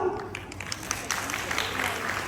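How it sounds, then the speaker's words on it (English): Applause breaks out for a prize winner at a college eye donation awareness program, a short burst of crowd clapping with a voice speaking over it. "A round of applause for the winner, please."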